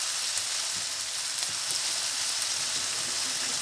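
Tapioca with spices frying in a pan, a steady bright sizzle that runs continuously and evenly at close range with no talk.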